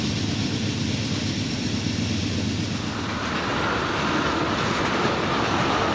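Freight train 36A carrying tractors on flat cars, rolling toward the east coast on track 1 near Portage Tunnel, Pennsylvania: a steady, broad rumble and rail noise heard from nearby, continuous throughout with no talk.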